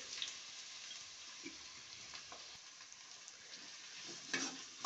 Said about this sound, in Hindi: ये हमने कढ़ाई रखे इसमें तेल रखा है अभी गर्म होगा और अब हम इसमें प्याज डालेंगे ये हमने प्याज डाल दिए